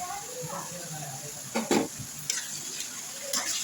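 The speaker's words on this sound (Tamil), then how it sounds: "நல்லா வதக்கி விட்டுக்கோங்க இந்த மாதிரி தக்காளி அந்த சுரக்காய் எல்லாத்தையும் சேர்த்து நல்லா வதக்கி விட்டுக்கோங்க" Tomato and bottle gourd sauté in a pan under a steady soft sizzle, with a few scraping stirs and light clinks of a spoon, and some talking in the background.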